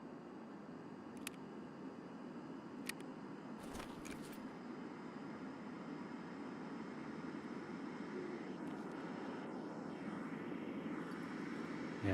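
A propeller airplane passing overhead in the Escape From Tarkov video game, a steady broad engine drone that builds gradually, with a few sharp distant clicks and a brief thud early on.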